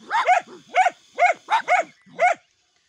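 Dachshunds bark sharply at a cobra, six quick close barks in a choppy rhythm, some doubled, then silence.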